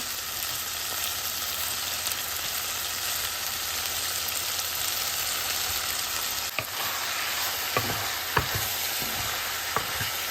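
Mixed vegetables sauté in a little oil in a clay pot, giving a loud, continuous sizzle with a few sharp scraping stirs near the end.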